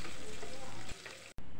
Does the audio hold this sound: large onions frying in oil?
yes